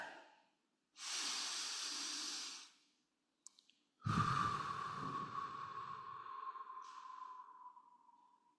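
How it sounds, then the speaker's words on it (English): A congregation breathes together during a prayer or meditation, giving a long soft exhale hiss followed after a pause by a fuller breath that trails off slowly, quiet and close, with no speech. "Let's begin by breathing together."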